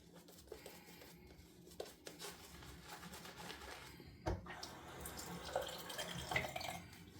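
Tap water running into a sink during a wet shave, a faint steady trickle with a few small drips and splashes near the end, with no talking.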